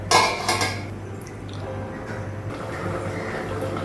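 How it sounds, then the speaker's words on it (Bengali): A metal lid clatters as it is lifted off a pot of fish curry on a gas stove, a couple of quick clinks up front, then a low steady hum of the burner. "ঢাকনা উঠাবো।"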